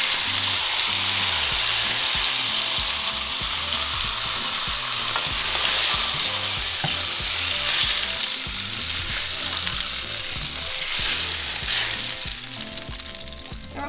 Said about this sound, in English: And we're going to finish cooking the rest of our meat.